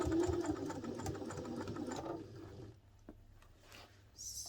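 A sewing machine stitching a messenger satchel bag near webbing and a rectangular D-ring whirs steadily for about two seconds, then stops, leaving a quiet room with a few faint clicks and small handling sounds.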